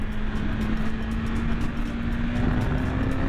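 A 2021 BMW S1000 motorcycle accelerates hard in second gear, a loud, close, continuous engine roar whose pitch climbs slowly and steadily, with no voices.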